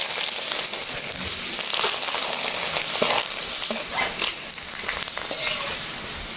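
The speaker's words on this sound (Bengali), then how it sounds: "কড়াইটা বসে আমি তেল ঢেলে দিচ্ছি পাঁপড় ভাজার জন্য" Jackfruit-leaf rice papads fry in hot oil in a pan at home, a steady close sizzle with scattered crackles and pops running throughout, no voices.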